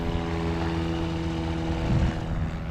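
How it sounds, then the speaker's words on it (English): A light plane or helicopter drones in the distance near a small airfield, a steady engine hum with a slight swell toward the end, alone without voices. "little airport where all day long there's helicopters and little planes flying up and down"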